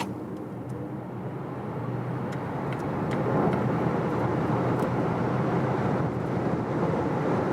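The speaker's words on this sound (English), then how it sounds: "So now accelerating it all out." Volvo XC40 Recharge P8 AWD twin-motor electric car accelerating hard from about 30 km/h, a steady broadband road and wind roar building in loudness from inside the cabin, with no voices.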